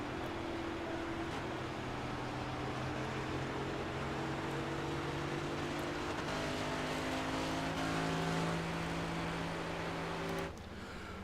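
Engine of a stock-car-style race car in the iRacing video game at Michigan, heard during a Cup Series race. It is a continuous, steady drone with a slight pitch shift near the end and no talking.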